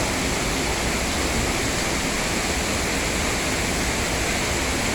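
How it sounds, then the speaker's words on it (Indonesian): A waterfall at Sarang Walet in Lombok, heard from a distance, gives a steady, even broadband roar. It holds unchanged for the whole stretch, with no voices. "Ini pemandangan air terjunnya kalau dari jarak jauh nih."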